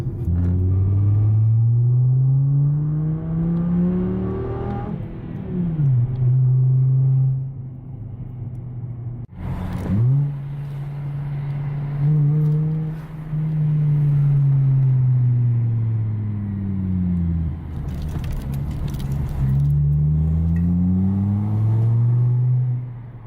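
Inside the cabin of a car with all its mufflers deleted, windows up, the exhaust drones deep and loud through rising and falling revs as it accelerates, shifts and cruises, with a couple of brief sharp bumps.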